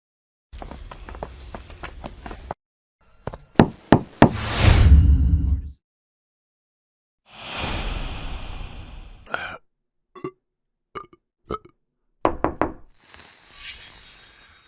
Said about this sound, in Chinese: 我来敲门。